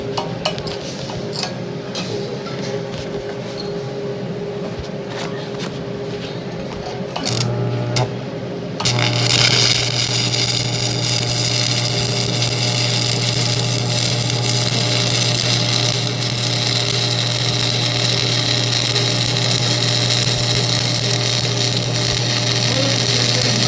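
A stick welder, an Ideal Arc 250 burning a 7018 rod, strikes an arc after a few scratchy starts, then holds a steady loud crackling sizzle over a constant electrical hum, with no talk.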